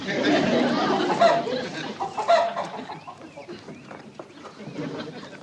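A chicken clucking aboard a 1964 Flivverball vehicle at Hooterville, with a series of fairly close, busy clucks and squawks that fade toward the end, heard alone.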